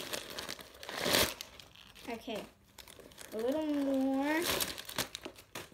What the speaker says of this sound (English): So let's take out the paper.